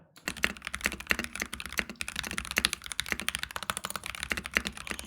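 Someone types on a prebuilt NK65 mechanical keyboard, producing rapid, close, clacky keystrokes with occasional deeper stabilized-key thocks in a steady run. No voices accompany it.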